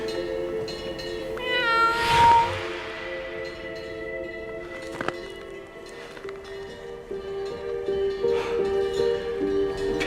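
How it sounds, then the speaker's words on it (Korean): A cat in a Korean historical drama gives one clear, rising and falling meow early on, followed by quieter rustles and thuds under soft background music. "고양이는 왜 세조 앞을 가로막아 선 걸까?"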